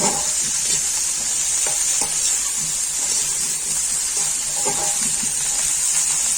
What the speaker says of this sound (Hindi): भिंडी को फ्राई कर लेंगे।